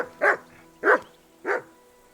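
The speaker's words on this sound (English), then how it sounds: "Call off that mutt of yours." A dog barks three times at an even pace in Kingdom Come: Deliverance 2. Each bark is loud, close and clear, with short silent gaps between them and no talk.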